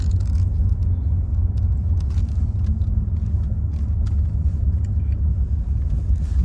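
A car drives along an oak-lined avenue near Daniel's Landing, giving a steady, close low road rumble and engine drone with tyre noise throughout, and no talk.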